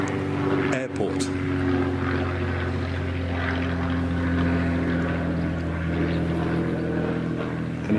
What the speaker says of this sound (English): I think it's a Spitfire.